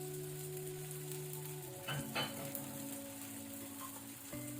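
Jackfruit dosa on a hot pan as ghee or coconut oil goes on, a steady soft sizzle with a couple of brief clatters and spoon scrapes, fairly close and with no talking.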